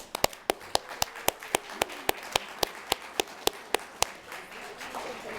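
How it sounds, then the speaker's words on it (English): Audience at a board of education meeting giving a final round of applause, heard as a steady series of sharp, evenly spaced claps that carry on for several seconds, fairly close, with no talking. "Let's give them all one last round of applause."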